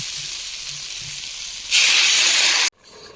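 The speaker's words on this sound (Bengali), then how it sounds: "আলু মশলা সমস্ত কিছু ভালোভাবে ভাজা ভাজা হয়ে গিয়েছে, এখন জল দিয়ে দেবো।" Water poured into a hot pan of fried potatoes and spices gives a sudden loud, bright hiss and sizzle that bursts up, holds for about a second, then cuts off sharply, following softer frying crackle.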